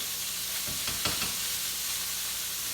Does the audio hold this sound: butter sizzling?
yes